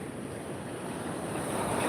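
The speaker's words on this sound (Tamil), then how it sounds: "பாருங்க கடல் அதுக்கு என் காலை தொட்டுட்டு போகிறதுக்கு ஒரு ஆசை போல் இருக்குது" Sea waves wash up the shore at Mahabalipuram beach in a loud, continuous rush of surf, mixed with wind noise on the microphone, no voices.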